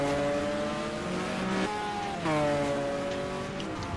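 A Panoz race car engine at Zhuhai circuit revving hard, its harmonic whine climbing, dropping sharply on a shift, then rising again, loud and steady over a hissy background.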